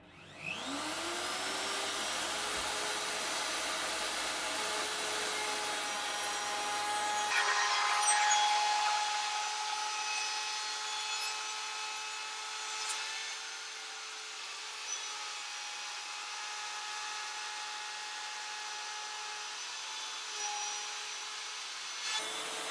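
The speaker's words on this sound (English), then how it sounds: "So this time I've got my upcut spiral bit in here, and I'm going to do another 6mm deep pass." A wood router fitted with an upcut spiral bit cutting a 6mm deep pass in wood, a loud high whine that spins up, runs steadily under the grinding rasp of the cut, and then drops away near the end.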